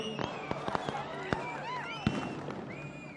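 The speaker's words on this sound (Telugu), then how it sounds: "టపాకాయలు ఆపాలయ్య బాబు, టపాకాయలు కాల్చదు బాబు" Sharp cracks of firecrackers burst at irregular intervals over a noisy crowd at a political rally in Siddipet, with whistling tones and voices murmuring in the background.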